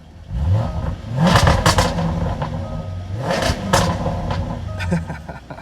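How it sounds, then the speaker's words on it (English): Jaguar F-Type SVR with a 5-litre V8 fires up close by and is blipped through several sharp, loud revs that rise and fall with mechanical clatter. "let's take a step on board and start her up for you gents. Gotta love that 5-liter V8"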